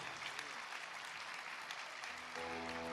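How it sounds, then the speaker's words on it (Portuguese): An audience applauds a professor in a steady, dense wash of clapping that holds at an even level throughout, with a tonal hum entering near the end. "Gente, uma salva de palmas."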